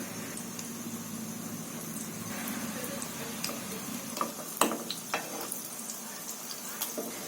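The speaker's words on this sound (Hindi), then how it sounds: "मध्य फ्लेम पर ही हम इसे फ्राई होने देंगे ताकि ये अंदर तक अच्छे से पक जाए" Thick aloo tikki potato patties shallow-fry in oil over a medium flame, making a soft, even sizzle with occasional pops and light clicks and no talking.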